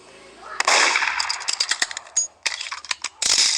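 Gunfire in the Roblox game Murder Mystery 2: a burst of sharp, loud cracks in quick succession, followed by further scattered clicks and bangs, close and dense over a brief stretch.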